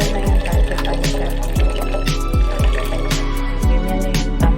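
Two cups of water poured into a cooking pot for bulanglang, a loud, steady stream with repeated gurgling drops and splashes throughout.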